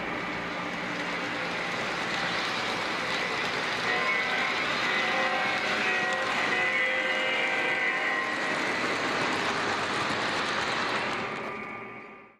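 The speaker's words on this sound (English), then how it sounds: "Bringing any other legacy locomotive across that sensor track will have the same result." A legacy model train locomotive rolls across an LCS SensorTrack, giving a steady, fairly loud mechanical rumble and whine that holds for about twelve seconds before tapering off at the end.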